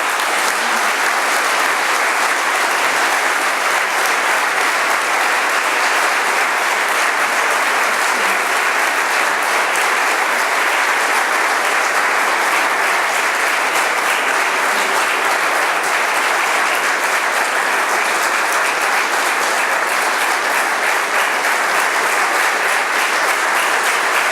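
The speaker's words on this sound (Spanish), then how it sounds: "para los que pido un fuerte aplauso, por favor" Loud, sustained audience applause at a 40th anniversary gala, a dense unbroken roar of many hands clapping that holds steady for the whole stretch without any voice over it.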